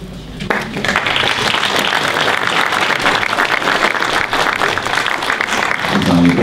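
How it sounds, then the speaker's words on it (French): Loud, dense applause fills a conference hall at an inauguration event in Vierzon, sustained and even from start to finish after a brief quiet opening. "il y a mes applaudissements"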